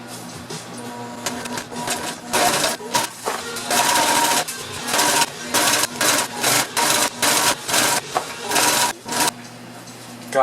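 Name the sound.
sewing machine stitching a boat bimini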